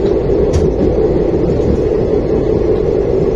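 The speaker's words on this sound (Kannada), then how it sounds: "ಅದು ಕ್ರಾಸ್ ಆಗಿದ್ದು ಬಂದು ಗಾಡಿ ರೀ ಅಜ್ಮೀರಿಂದ ಮೈಸೂರಿಗೆ ಹೋಗುವಂಥ ಸೂಪರ್ ಫಾಸ್ಟ್ ಎಕ್ಸ್ಪ್ರೆಸ್ ರೀ" An Ajmer–Mysore superfast express train rushes past on the Indian railway line, a loud, steady rumble of wheels and carriages that fills the whole stretch without a break.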